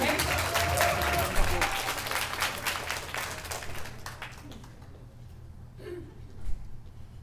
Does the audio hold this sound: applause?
yes